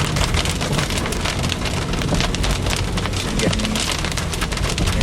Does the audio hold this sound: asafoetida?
no